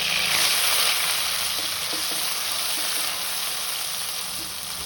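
Ground green chilli paste fries in melted ghee with a steady, close, bright sizzle, a few soft stirring clicks breaking in now and then.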